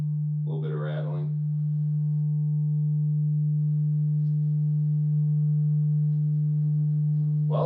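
A homemade subwoofer box plays a steady, loud low test tone that drones unbroken throughout, with a short burst of speech near the start and again at the very end.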